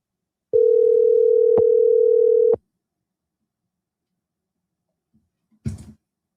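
A single telephone ringback tone sounds while calling a company about rental apartments: one steady, loud tone lasting about two seconds, then silence and a brief faint noise near the end.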